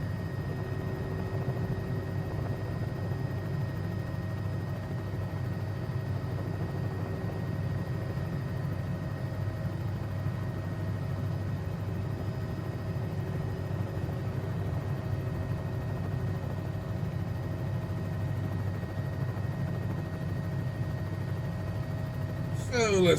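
A Bell 206B3 helicopter in flight in a simulator, a steady, even engine and rotor drone running at constant loudness throughout, with a brief brighter rustle near the very end.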